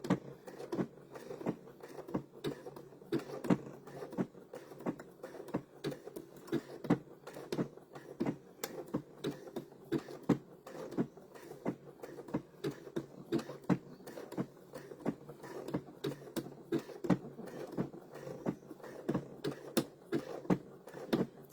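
A sewing machine stitches appliqué fabric in a steady, fast run of light mechanical ticks lasting the whole stretch, fairly quiet and even, with no voice over it.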